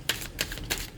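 Tarot cards being shuffled by hand give three quick crisp riffling bursts, close and clear, with no talk over them.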